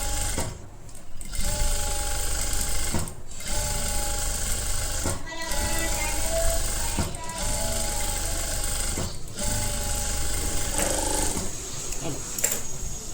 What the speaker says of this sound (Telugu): నెక్స్ట్ ఈ ఎడ్జ్లో కూడా కుట్టుకోవాలి, సైడ్లో కూడా ఇంకొక స్టిచ్ అనేది వేసేసుకోండి.